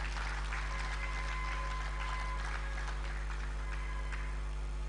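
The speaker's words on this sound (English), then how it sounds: "applause" Applause from an audience at a formal gathering about a Nigerian newspaper's founding, heard as a soft, steady wash of clapping over a constant low electrical hum, fairly distant and continuous.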